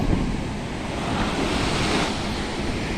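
Steady roar of ocean surf at a Pondicherry beach in rainy weather, with continuous crashing waves and wind rushing over the microphone, loud and close throughout.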